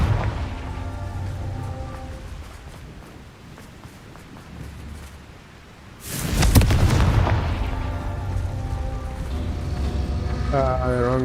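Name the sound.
Confringo blasting spell explosion, from a video game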